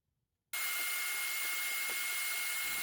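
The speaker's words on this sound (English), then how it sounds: "I can then cut it out on the bandsaw." A bandsaw cuts out a wooden turkey head, starting abruptly after a brief silence and then holding a loud, steady whining buzz with a high tone throughout.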